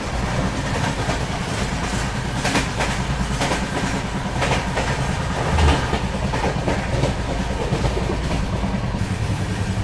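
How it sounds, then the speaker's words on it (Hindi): Rajdhani Express passenger train (22222) running at around 100–110 km/h, a steady loud rumble with rhythmic clickety-clack of wheels over rail joints throughout, heard close from onboard with no talking. "अभी तो फिलहाल 100-110 के बीच में जो है चल रही है फिलहाल तो अपनी राजधानी"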